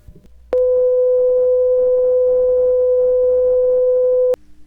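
A 500 Hz test tone from a CBS Laboratories STR 100 test record plays: a steady, loud pure tone starting abruptly and cutting off cleanly after about four seconds, with faint surface noise before and after.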